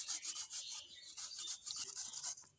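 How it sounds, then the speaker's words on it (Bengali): Boiled potato grated on a large grater over pointed gourd, heard as quick repeated rasping strokes in a steady rhythm, close but soft, with no talking. "এটা এখন এই গ্রেটারের সাহায্যে গ্রেট করে নেব পটলের ওপরে"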